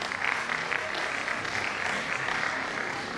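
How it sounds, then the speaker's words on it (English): An audience claps at a registry lecture, a steady even patter of many hands at moderate distance, continuous for a few seconds with no talk. "Let's clap for him."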